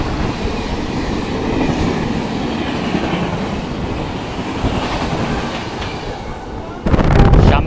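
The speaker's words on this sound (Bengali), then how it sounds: "কিন্তু মারাত্মক স্পিডে একটা এক্সপ্রেস ট্রেন আসছে" An express train roars past at high speed, a dense continuous rumble with rhythmic clatter, growing louder and harsher in the final second.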